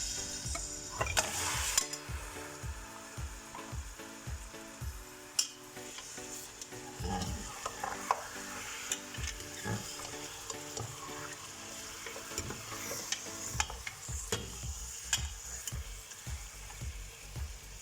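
About 2 kg of large mutton pieces frying in hot oil for korma, with a loud, steady sizzle and repeated scraping stirs of a utensil in the pan, up close and without talking.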